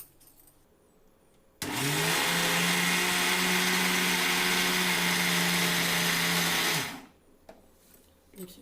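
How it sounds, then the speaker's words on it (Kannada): A kitchen mixer grinder whirs loudly for about five seconds, grinding roasted ingredients into chutney powder. The steady motor drone starts and stops abruptly, with quiet room sound before and after. "ಮಿಕ್ಸಿ ಮಾಡೋಣ."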